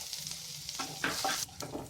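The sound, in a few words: chopped garlic frying in hot oil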